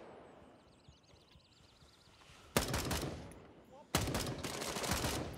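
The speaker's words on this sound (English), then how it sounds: "Who's shooting from this side?" Gunfire in a tactical looter shooter set in a jungle, with faint distant shots first, then two loud bursts of rapid automatic fire cracking close by, each sustained for over a second.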